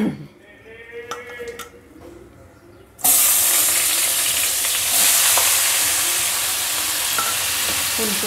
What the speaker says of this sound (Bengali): ফুলকপি আলুটা আগে ভেজে নিচ্ছি।